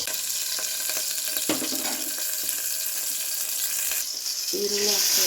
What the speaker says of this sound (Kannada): ಈರುಳ್ಳಿ, ಹಸಿಮೆಣ್ಸಿನ್ಕಾಯಿ ಫ್ರೈ ಆಗುತ್ತೆ